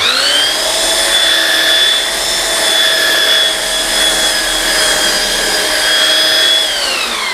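An electric sander works a wooden piece clamped on a woodworking bench, a loud, steady motor whine with a sustained grinding hum and slight swells in pitch, running close and continuously without speech before winding down at the end.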